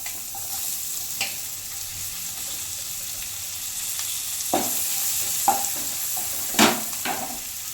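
Chopped onion frying in a pan, a steady hissing sizzle throughout with a few sharp stirring scrapes and knocks near the end, close and even in level.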